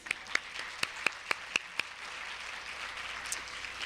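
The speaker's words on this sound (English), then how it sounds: "let's give him a round of applause" Sparse applause at a children's champions awards event: a handful of sharp, distinct claps spaced out over a few seconds, fairly quiet against a soft room background.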